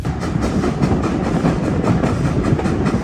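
Train running on rails, a loud close rumble with rhythmic clickety-clack of wheels over rail joints, steady throughout with no voices.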